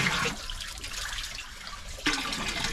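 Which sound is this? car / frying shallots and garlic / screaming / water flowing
water flowing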